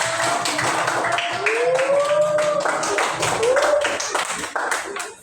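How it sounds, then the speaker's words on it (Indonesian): Children clapping their hands in an elementary school classroom during a grade 3 lesson, a steady patter of many small hands lasting several seconds with children's voices and a whistle-like tone mixed in. "Kita tepuk tangan dulu ya untuk kelompok 1."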